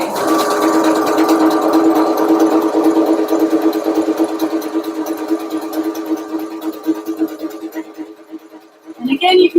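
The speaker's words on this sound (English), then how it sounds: "I'm doing a zigzag, or you can do another overcast stitch that's on your machine" A domestic sewing machine runs a continuous zigzag stitch along a skirt seam edge, a steady close whirring hum that holds for several seconds before slowing and stopping near the end.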